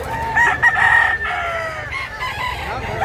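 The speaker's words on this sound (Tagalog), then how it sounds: "Daming tao, daming manok." Several roosters crow at a busy chicken market, long ringing calls overlapping with clucking fowl amid a crowded, noisy background.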